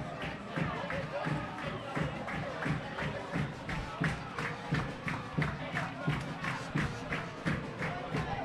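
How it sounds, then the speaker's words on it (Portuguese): Football supporters chant rhythmically in the stands during Chapadinha versus Pinheiro, a 2024 Campeonato Maranhense match, with steady thumping beats under a commentator's voice. "Você ouve o canto da torcida, que mesmo não conseguindo a vitória, mantém o incentivo ao seu time"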